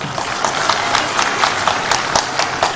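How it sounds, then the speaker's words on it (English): A dense crowd claps at a National Democratic Congress political rally, producing a thick, continuous wash of clapping with rhythmic surges, loud and close, and no voices on top. "That deserves a round of applause, please."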